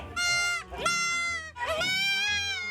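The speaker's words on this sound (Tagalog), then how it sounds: "Ah, kambing to. Hindi to aso, kambing to." A young goat bleats loudly up close in rural Pangasinan, Philippines, two long wavering cries separated by a brief pause.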